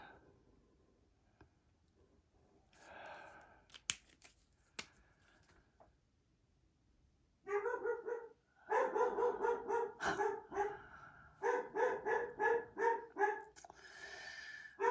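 A dog barks repeatedly and loudly, in rapid bursts that come close together after some quieter rustling and shuffling at the start.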